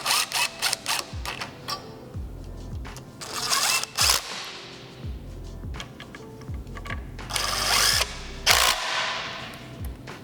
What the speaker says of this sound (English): Now you're going to use a 7mm drive Allen socket to get these in,